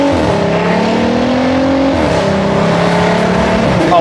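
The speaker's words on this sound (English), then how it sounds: "Obviously, it's a DSG, so you get the farts." A VW Passat with a DSG gearbox and an aftermarket exhaust accelerates hard, its engine droning loud and close as it climbs in pitch, with a brief dip at a gear change.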